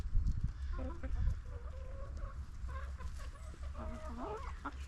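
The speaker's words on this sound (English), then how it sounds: "what is wrong with that chicken?" A chicken clucks in a farmyard with goats nearby, a run of faint, repeated clucks and murmurs over low background rumble.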